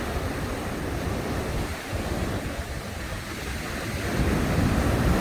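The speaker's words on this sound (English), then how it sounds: "We have several waves stacking in on top of each other." Ocean waves stacking on top of each other onto a steep beach, a steady loud roar of surf and wash with wind rumble, swelling slightly toward the end.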